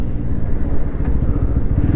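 A Bajaj Pulsar N160 or N250 motorcycle ridden at high speed in a drag race: a loud, continuous engine roar with rushing wind rumble, steady throughout and with no talking.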